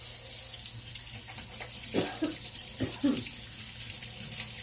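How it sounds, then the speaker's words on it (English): Tap water runs steadily into a kitchen sink while hands are washed after breaking up onions, a soft continuous hiss with a few louder splashes midway. "Let me wash my hands."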